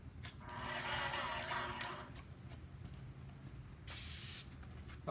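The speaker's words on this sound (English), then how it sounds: "We're going to go prime valve down to release some pressure." Airless paint sprayer hissing as it sprays, a steady broadband spray for about two seconds, then a brief loud burst of high pressure released through the prime valve near the end.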